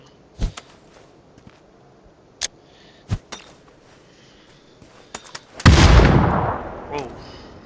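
In the PUBG shooter on PS5, a grenade blast erupts as a loud, close roaring burst that decays over about two seconds, after several sharp isolated cracks and thumps of gunfire or impacts.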